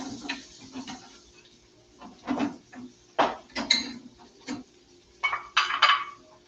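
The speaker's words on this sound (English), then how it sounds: "I've got about a cup of chopped onions, adding that to my pan." About a cup of chopped onions goes into a pan for Basque-style cod with vegetables, heard as irregular clinks, scrapes and taps of utensil against cookware in short bursts, close and fairly quiet, with no talking.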